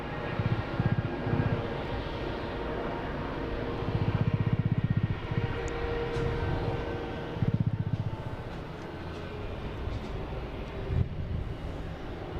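A JetBlue Airbus A220 heading for West Palm Beach roars from a Boston Logan runway, a sustained jet rumble with pulsing low thumps and fluctuating intensity heard from a distance, without talk.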